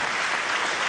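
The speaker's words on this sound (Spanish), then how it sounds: "Hay que aplaudir, por supuesto." Steady applause from an audience fills the whole moment, a dense, even wash of many hands clapping with no voices rising above it.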